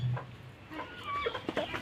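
A rooster clucks in a few short, close bursts, with a quiet outdoor background between calls.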